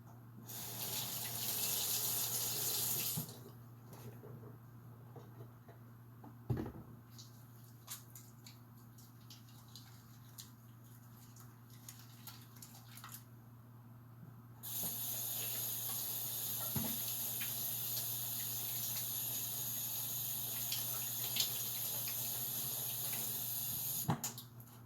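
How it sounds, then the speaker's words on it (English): Running tap water hisses loudly into a sink for hand washing before cooking, stopping for several seconds of quieter rubbing and scattered knocks, then flowing again steadily until the end, with no talking. "the first thing I'm going to do is wash my hands"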